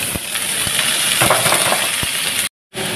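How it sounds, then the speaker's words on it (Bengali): Potatoes fry in a pan with turmeric and salt, giving a constant close, bright sizzle with small clinks and stirring taps and a brief dropout near the end. "আর এখানে এই যে আলু ভাজাটা হলুদ নুন দিয়ে ভাজা বসিয়ে দিলাম"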